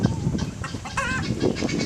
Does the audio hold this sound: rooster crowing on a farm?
yes